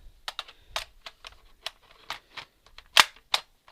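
A surplus Romanian AK magazine is handled and inserted into a Warsaw-style AK rifle, producing a series of sharp metallic clicks and taps, with one louder snap near the end.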